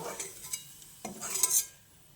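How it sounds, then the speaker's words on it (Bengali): Fried potatoes are scooped from a pan into a pot of spinach, making a few close clinks and scrapes of a spoon against metal with a faint sizzle between them. "এবার এই আলুগুলোকে ওই শাকের পাত্রেই আমি তুলে নিচ্ছি।"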